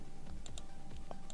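Sharp, isolated clicks from a computer mouse or keyboard while drafting a 2D building cross-section in CAD, a few spaced taps at close range with no talking.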